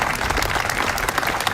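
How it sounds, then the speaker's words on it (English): Dense, steady applause fills the air at a ribbon cutting and grand opening of an arts center, many hands clapping together at an even volume with no pauses. "Just give him a round of applause."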